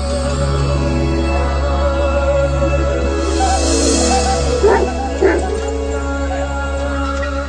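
An Aksaray Malaklı dog gives a couple of short barks midway through, set against a steady low background hum.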